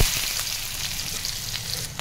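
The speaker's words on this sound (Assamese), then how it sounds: "ইয়াতে অকণমান মই এতিয়া পিঁয়াজ দি ল'ম" Onion dropped into a little oil in a wok for an Assamese masoor dal with outenga, a loud bright sizzle that starts at once and holds steady, close up with no talk.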